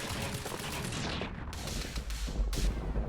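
Sustained automated turret fire in the video game Quantum Break: dense, continuous bursts of gunshots with sharp cracks, loud and close, running throughout without speech.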